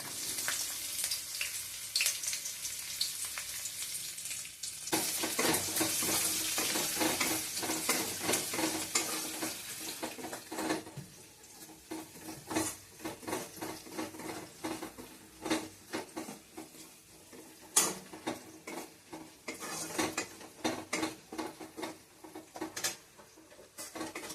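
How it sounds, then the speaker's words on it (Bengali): Garlic and ginger sizzle loudly in hot oil, a dense crackling hiss with scattered pops and occasional stirring clatter, no talking. "এবার আমি এই তেলের মধ্যে প্রথমে রসুন কুচো, আদা কুচোগুলি দিয়ে দিলাম।"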